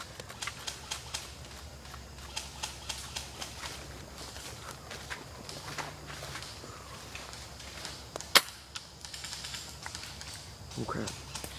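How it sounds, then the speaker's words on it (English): Airsoft guns fire during an outdoor airsoft war game, giving scattered sharp pops and one louder crack amid footsteps and rustling, while voices talk over the action. "Oh, they're firing."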